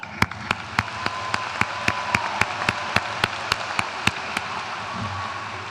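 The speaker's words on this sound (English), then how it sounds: "Yes, let's clap." Applause at a high school commencement ceremony, heard as a steady, evenly spaced run of sharp claps that continues for several seconds at moderate volume, with no talking.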